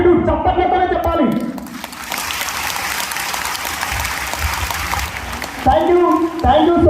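An audience at a company success meet in a hall claps in gratitude, a sustained, loud wave of applause with voices speaking at the start and again as the clapping fades.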